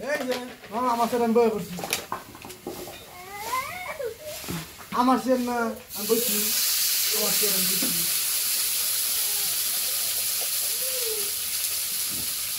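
Spice paste sizzles in a pan in a village kitchen before potatoes and eggplant go in; a voice talks over faint frying for the first six seconds, then a loud, steady sizzle takes over alone.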